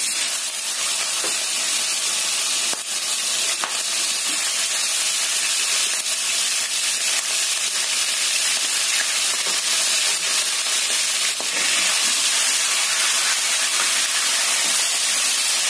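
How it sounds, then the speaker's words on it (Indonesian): Chicken pieces frying in hot oil in a pan over medium heat, cooking to half done, give off a steady, dense, loud sizzle and hiss that runs unbroken throughout with scattered small pops and no talking. "Kita goreng ayamnya nyampe setengah matang."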